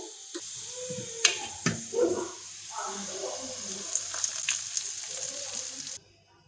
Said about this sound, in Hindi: मिक्स करेंगे, ज़्यादा हम इनको फ्राई नहीं करेंगे मिर्चों को और ज़ीरे को।